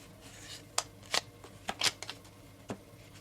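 Playing cards from a black-backed Bicycle deck are handled and set down into piles, giving a series of crisp, close riffles and slaps at irregular intervals over a quiet background.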